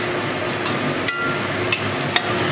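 Potato and spices being stirred in a hot pan, a continuous soft sizzle and scraping with a few sharp clicks of the spoon against the pan, moderately quiet.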